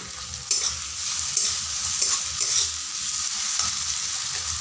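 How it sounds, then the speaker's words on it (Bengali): Ginger and garlic paste sizzles in hot oil in a pan for an egg curry, a steady close-up crackle with the scrape of stirring now and then and no voices. "এরপর আমি আদা আর রসুনের পেস্ট দিয়ে দিচ্ছি।"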